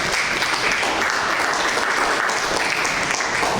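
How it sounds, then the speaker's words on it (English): An evening lecture audience at FreedomFest breaks into a round of applause. The clapping is dense and fairly loud, and it stays steady throughout with no one speaking over it. "give a little round of applause"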